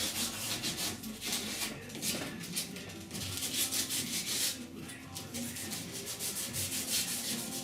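Steady, close scraping of 80-grit sandpaper on a block over primer on the rusty roof of a 1969 C10 truck, a continuous rough rasping with rhythmic back-and-forth strokes and no pauses.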